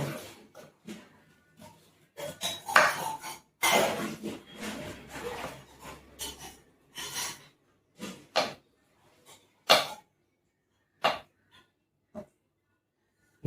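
Elephant foot yam being cut into diamond-shaped pieces, with a series of irregular knife chops and thuds on a board, some clustered and louder, others sparse and sharp, close by with no talking.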